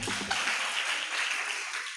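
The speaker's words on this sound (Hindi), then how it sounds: "सब अकलंक लोगों के लिए एक बार जोरदार ताली बजा दो" Audience applause at a Hindi spiritual lecture gathering: a dense, steady wash of many hands clapping together, fairly close and sustained for the whole stretch, with no talking over it.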